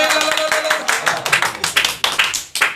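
Audience clapping at a live Punjabi song performance, a burst of sharp, close hand claps in an uneven rhythm over about three seconds.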